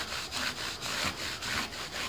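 120-grit sandpaper rubbing on a wooden guitar fretboard in quick, even back-and-forth strokes, about eight in a row, close up with a raspy texture.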